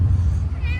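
A cat gives a short, close meow over low background rumble, in a laid-back small-town setting in Senoia, Georgia.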